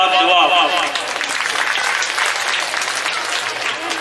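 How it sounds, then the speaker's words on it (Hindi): Sustained applause from a church congregation honoring the bishop at a parish felicitation, a dense continuous wash of many hands clapping, with a voice briefly audible at the start. "बिशप स्वामी लगी ताली बजाय के धन्यवाद दुआ।"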